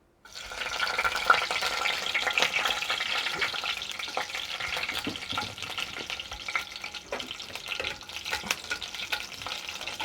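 Garlic cloves drop into hot oil and fry with a sudden loud burst of sizzling, then settle into a steady close crackle with light stirring scrapes, and no one speaks.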